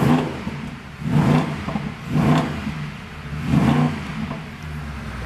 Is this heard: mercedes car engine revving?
yes